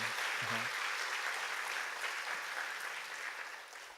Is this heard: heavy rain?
no